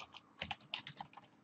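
Terminal commands are typed on a computer keyboard in a quick, irregular burst of close, crisp key clicks, alone and fairly quiet.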